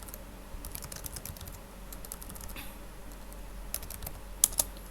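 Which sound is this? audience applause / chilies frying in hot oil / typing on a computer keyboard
typing on a computer keyboard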